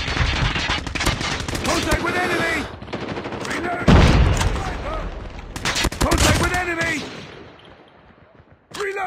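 Rapid automatic gunfire in the mobile shooter game Call of Duty Mobile, dense bursts of shots and booms over game voice callouts.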